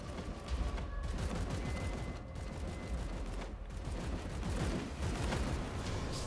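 Rapid bursts of gunfire in the tactical video game Chaos Gate, loud and continuous for several seconds, with a few brief gaps between volleys.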